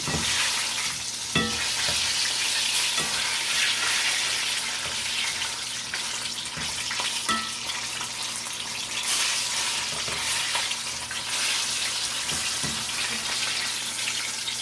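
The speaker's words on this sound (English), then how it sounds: "here goes the first batch of apple donuts" Batter-coated apple donuts deep frying in hot oil, a loud, dense, continuous bubbling sizzle close up, with occasional faint clicks and no talking.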